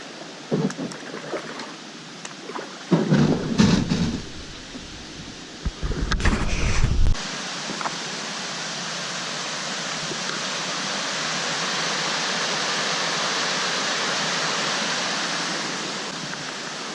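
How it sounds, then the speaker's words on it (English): Rustling and bumping sounds come first. Then the constant rushing roar of a waterfall takes over, steady and fairly close, with no voices. "Maybe it's a waterfall."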